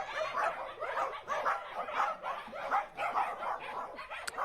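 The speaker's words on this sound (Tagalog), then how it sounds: "Sumasagot din yung mga aso eh." Dogs barking repeatedly in an irregular string of yips and barks, fairly close and lively, with no talk over them.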